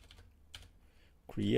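Typing on a computer keyboard, a few light scattered keystrokes up close, quiet and sparse, then cut off by a louder burst at the end.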